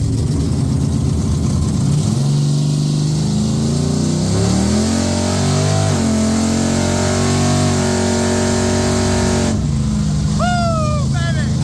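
A 1964 Savoy's engine on its first drive at a drag strip, loud and close, with steady revving that rises and falls over a constant mechanical drone, and brief voices or whistles near the end.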